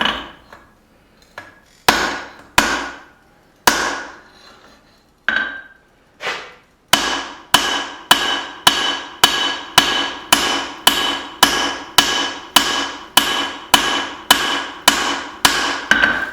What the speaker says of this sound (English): I'm still on my cross peen.